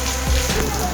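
Heavy first rain of the season pours down in Rajkot as a loud, steady, dense hiss that fills the whole moment.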